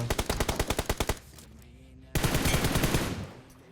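Rapid automatic gunfire in PUBG Mobile, a fast burst of about a dozen sharp shots lasting roughly a second, followed by a short lull and then a louder sustained rattle of fire that fades out.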